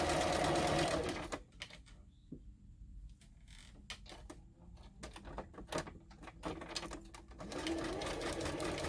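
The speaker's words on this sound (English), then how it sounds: "I'm going to go back down and do the second stitch to it, and just add more lace to those bare spots" Sewing machine stitching lace onto a snippet roll, with a loud, steady whirring run at the start and end and softer handling taps and rustles in between.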